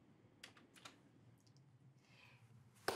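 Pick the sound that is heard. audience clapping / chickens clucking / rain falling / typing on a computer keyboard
typing on a computer keyboard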